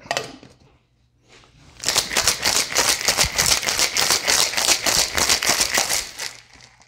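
A loud, fast rattling of ice knocking inside a cocktail shaker, sustained for several seconds after a brief pause, with no voices.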